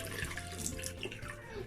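Water runs from a tap in a steady, moderately faint gush with a slight splashing texture, heard briefly and alone.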